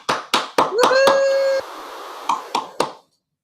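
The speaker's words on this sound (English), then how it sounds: "So let us welcome, with huge round of applause, Linda Patton." A handful of sparse, uneven handclaps from an online Toastmasters meeting sound close and dry, spaced apart rather than forming a crowd, with a brief sustained tone partway through.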